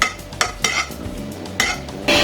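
Dry fruits being fried in ghee in a pan, with a spoon stirring and scraping against the metal in several distinct clinks over a soft background sizzle, close by.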